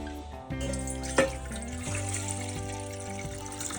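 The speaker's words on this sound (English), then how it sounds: "Now take a bowl, add water." Tap water poured into a bowl in a kitchen, a continuous splashing trickle with the pitch shifting as the bowl fills, close and moderately loud.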